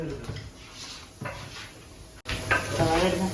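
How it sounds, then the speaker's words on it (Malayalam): Curry is reheated and stirred in a pan with soft sizzling and scraping. A few clanks of utensils against the pan come through, with quiet noise in the background. "ഇപ്പോൾ കറിയൊക്കെ ചൂടാക്കാണ്."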